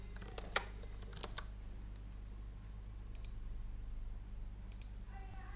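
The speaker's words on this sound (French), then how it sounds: "je vais taper directement le titre dans mon navigateur" Someone typing a title on a computer keyboard in a quiet room: a quick cluster of light key clicks at the start, then scattered faint taps over a low steady hum.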